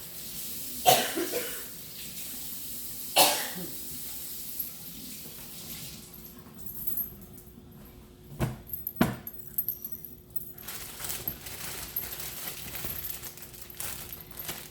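Produce for parrot chop being rinsed under running tap water at a sink, with intermittent splashing, clattering and handling knocks, loud and close, no talking.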